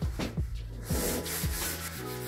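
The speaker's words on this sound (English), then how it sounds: "I'm just finishing these edges up with a 320 grit" Table top edges on a dining room table are sanded by hand with 320 grit sandpaper, close and loud, in rhythmic back-and-forth rubbing strokes with repeated low thumps.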